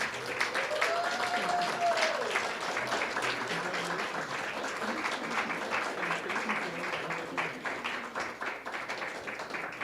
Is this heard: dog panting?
no